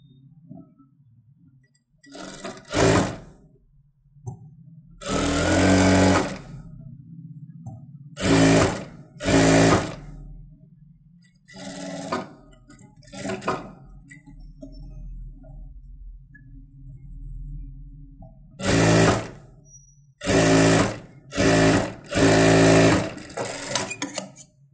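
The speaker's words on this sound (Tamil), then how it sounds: "நான் உங்களுக்கு தையல் போட்டு காமிக்கிறேன்" Sewing machine running in repeated bursts of a few seconds each, loud and close, stitching a saree blouse. The motor whirs between short pauses and quiet handling sounds.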